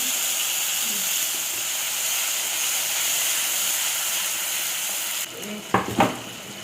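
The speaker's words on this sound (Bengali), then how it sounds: "অল্প সর্ষে, শুকনো লঙ্কা আর অল্প একটু কালো জিরা একটু ভাজা ভাজা হয়ে গেলে" Mustard seeds, dried red chilli and nigella sizzle in hot oil, a steady close frying hiss that runs throughout, with a few sharper pops and spits near the end.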